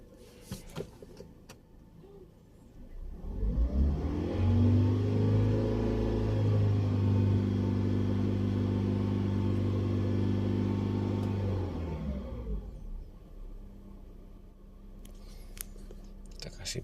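A car engine idles while headlights add electrical load, its rpm dropping toward 750. A steady low hum swells in for several seconds, holds, then fades away.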